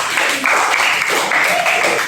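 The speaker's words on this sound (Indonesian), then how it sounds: "Oke, tepuk tangan untuk komentar." Students in a classroom clap for a classmate's comment, a brief burst of fairly loud, dense applause lasting about two seconds and fading at the end.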